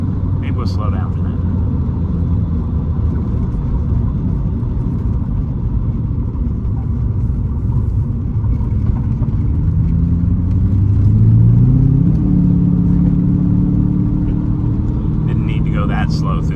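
1988 Porsche 928 S4 heard from inside while driving, a steady low engine drone with road rumble and a rise in revs partway through, under continuous talk.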